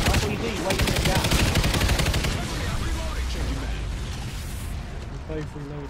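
Rapid gunfire from turrets and weapons in the video game NightFall, an alien attack, dense and loud throughout with bursts of repeated shots, while people talk over the din.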